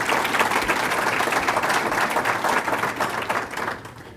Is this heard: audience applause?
yes